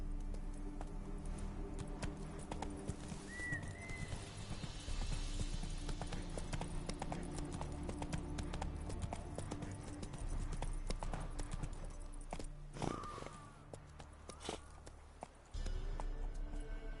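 In The Witcher video game, the horse Roach trots in a steady, close clip-clop rhythm of hoofbeats that runs without pause across the whole stretch, with game ambience behind it and no speech.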